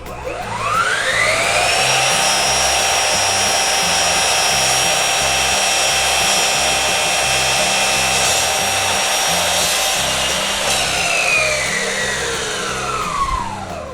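A Bosch GCM 18V-305 GDC cordless sliding miter saw cuts through wood with a steady, loud high-pitched whine, spinning up and winding down over about fourteen seconds with no talking.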